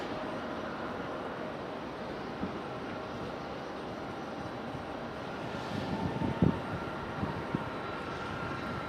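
A Frontier airliner taxiing at Raleigh-Durham airport, a steady distant engine drone and rumble holding level throughout, with a brief thump near the end and no talking.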